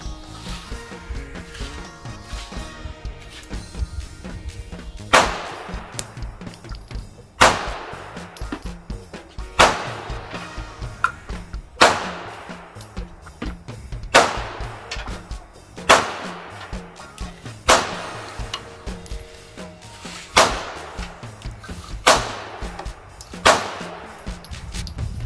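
A CZ 2075D RAMI pistol fires ten shots in a slow, steady series, each report sharp and loud with a short decaying tail, separated by quiet pauses of roughly two seconds.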